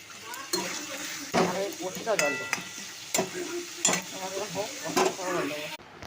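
Egg curry with potatoes stir-fried in a pan: steady sizzling under repeated spatula scrapes and clinks against the pan, with a faint voice in the background.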